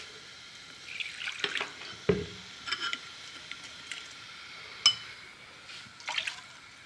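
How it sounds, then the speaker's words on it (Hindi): Water is poured into a pan while making Afghani falooda, giving soft trickles and a few sharp drips and splashes scattered over a quiet kitchen background. "थोड़ा सा पानी इसमें डालूँगी"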